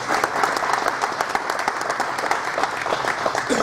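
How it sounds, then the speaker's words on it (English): Audience at a news conference for a state representative candidate claps steadily, with a moderate, even applause that continues throughout. "So again, one more round of applause for Jill Tracy."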